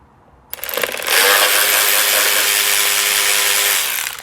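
An auto ratchet drives T30 screws on a Vespa scooter, a 2017-or-earlier Primavera, kicking in after a brief quiet with a loud, close, continuous whirring buzz that holds steady for several seconds before trailing off.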